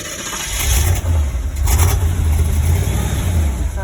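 A 1977 Corvette with a Weber carburetor and an idle in need of adjustment cranks and catches, then its engine revs up in loud rising bursts before settling into a rough, close, steady run.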